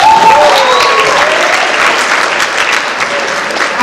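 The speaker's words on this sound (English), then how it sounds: "A round of applause for them, please." A school audience at a Black History Month celebration gives a loud round of applause, dense close clapping that holds steady for several seconds with faint voices mixed in.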